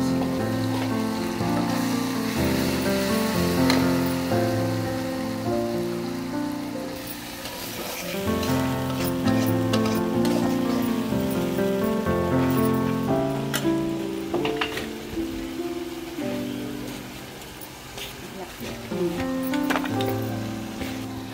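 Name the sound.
frying fish with garlic paste in a pan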